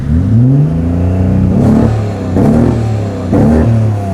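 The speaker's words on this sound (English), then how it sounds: "Like, just rev it from a stop?" BMW E30 with a tuned engine held at a launch-control limiter around 4,000 rpm, revving loud and close in repeated surges, the note bouncing off the cutoff roughly every second with no talk.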